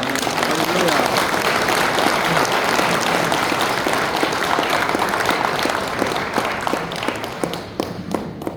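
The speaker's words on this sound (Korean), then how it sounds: "목사님 나오실 때 크게 환영의 박수로" Loud congregational applause at a Korean Presbyterian men's national gathering welcomes a pastor to the stage, a dense burst of many hands clapping that holds steady, then thins and fades over the last couple of seconds.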